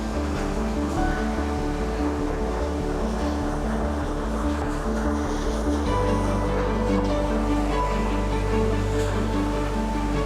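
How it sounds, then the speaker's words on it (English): A river flows through a gorge on the Ingleton Waterfall Trail, heard as a steady, loud wash of rushing water with a low droning hum running beneath it throughout. "Looking down at this little ravine towards the bottom of the gorge where the river is flowing,"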